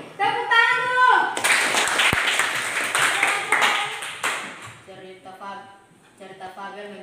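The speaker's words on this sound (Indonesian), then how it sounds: "Tepuk tangan dulu" A classroom bursts into a few seconds of applause for a student, a dense wash of clapping that rises suddenly and fades, with a teacher talking just before and after.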